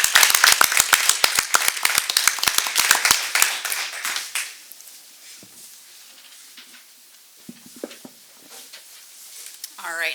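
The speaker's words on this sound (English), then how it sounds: "Could we have one round of applause for all of our teachers?" Audience applause for teachers at a Madison board of education meeting: a burst of many hands clapping for about four seconds, then fading into a quiet room with faint rustles and shuffling.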